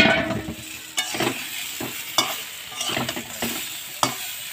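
Mixed vegetables just added to a pan of frying potatoes and spices sizzle steadily, with repeated firm spatula scrapes and clacks up close.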